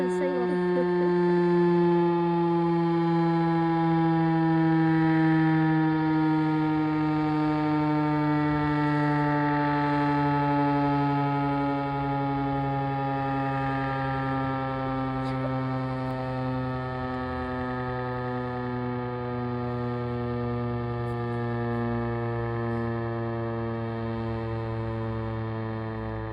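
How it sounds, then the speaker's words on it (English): A Federal Signal STH 10 civil defense siren during a noon test, sounding a loud sustained wail that slowly drops in pitch as it winds down, steady and close, with no other sounds intruding. "Okay, so now the siren is winding down."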